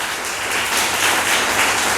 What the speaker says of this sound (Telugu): ఒకసారి గట్టిగా వాళ్ళ కోసం చప్పట్లు కొడదామా?